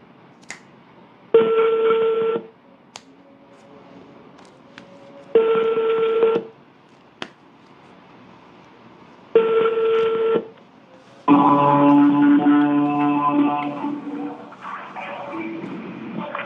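Touch-tone telephone keypad dialing a number: three bursts of steady dual tones about a second long each, separated by quiet gaps, followed by a longer ringing or connecting tone near the end.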